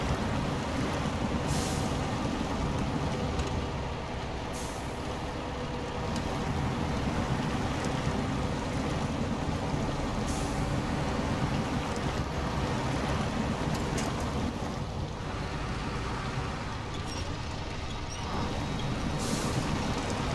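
A heavy truck backs up while winching a stranded Cat 770G haul truck in a video game, its engine droning steadily at close range with air-brake hisses and faint wind noise, and no talk.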